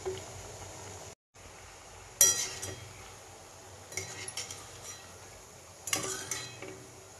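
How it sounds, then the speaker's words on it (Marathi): Jaggery kapanya sweets fry in hot oil, a faint steady sizzle with occasional clinks and scraping stirs of a utensil against the pan, quiet and close. "आता तेलामध्ये कापणी टाकते"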